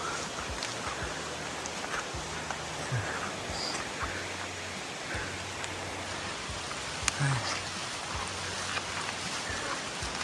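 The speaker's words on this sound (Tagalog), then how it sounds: "Hindi pa rin tumitigil yung ulan, ano?" Rain falls steadily on a dark mountain trail at night, a soft continuous hiss with occasional drips and rustles, faint and close, accompanied by a low motor-like hum and a brief knock.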